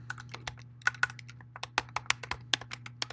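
Keys clatter on a computer keyboard in an irregular burst of fast clicks, close and clear over a low steady hum, with no speech.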